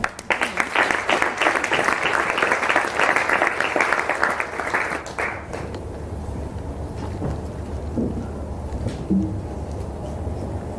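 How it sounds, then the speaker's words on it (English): A crowd at a climate event breaks into loud, dense applause for about five seconds, then it fades into a quieter room tone with a few scattered sounds. "Please give a round of applause"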